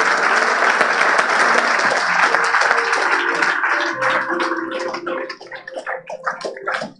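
A church congregation applauding, dense, sustained clapping that stays loud for several seconds, then thins into scattered individual claps as it fades.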